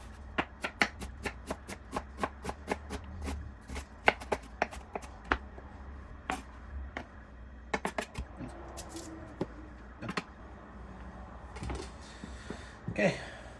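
A knife dices onions small and thin on a cutting board for broccoli cheddar soup, making a steady run of crisp, rapid chopping taps up close, broken by short pauses and a few scraping, shuffling sounds near the end.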